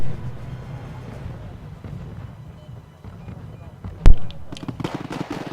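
NATO artillery firing in the video game Wargame AirLand Battle, including 200mm guns: a low continuous rumble of distant fire with one sharp, loud blast near the end followed by smaller reports.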